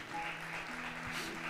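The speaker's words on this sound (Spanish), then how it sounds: "Denle un aplauso a Jesucristo" Church congregation applauding during a sermon, a steady wash of clapping heard at moderate distance with a low hum beneath it.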